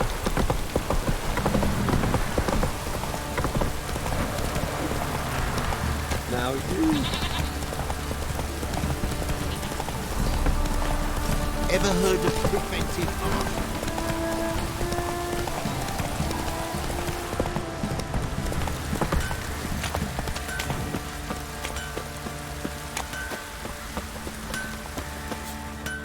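Horse galloping through rain in The Witcher 3: Hearts of Stone, rapid clip-clop hoofbeats over steady rainfall on the ground, with brief spoken lines from characters over the top.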